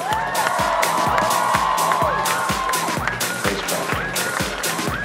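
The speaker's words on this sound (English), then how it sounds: "Give her a round of applause." A convention crowd at an anime cosplay walk-on show cheers and whoops loudly with steady clapping throughout, a dense, continuous roar of voices filling the room.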